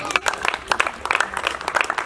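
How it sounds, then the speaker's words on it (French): A church congregation at a wedding service claps for the Lord in a brief, uneven burst of hand claps, fairly close and loud, with no talk over it. "Est-ce qu'on peut applaudir le Seigneur?"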